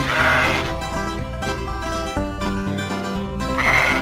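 Sheep bleat loudly over a musical backing, with wavering calls at the start and end of a steady, sung nursery tune.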